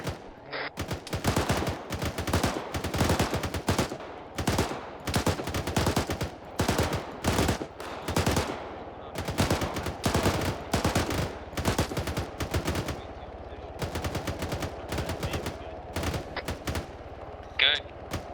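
Sustained machine gun fire in the military game Arma 3, long rapid bursts of close, loud shots with brief pauses between volleys, continuing steadily throughout with occasional heavier reports.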